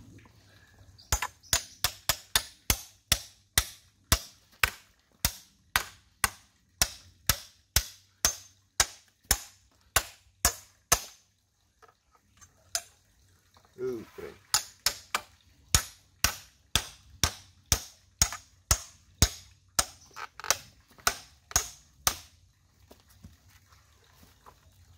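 Hammer striking bamboo over and over, sharp loud cracks in a steady rhythm of roughly two per second, close by. After a short pause near the middle the blows resume, and a brief voice comes between the strikes.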